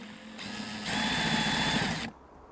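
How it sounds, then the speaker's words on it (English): A drill with a wood bit bores out a hole while working on a cheap chainsaw, giving a steady close whine that rises in pitch and loudness for about a second before stopping. "we're just going to drill the hole out"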